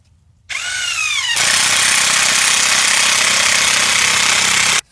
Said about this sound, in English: I have an impact, so I'm going to go ahead and use it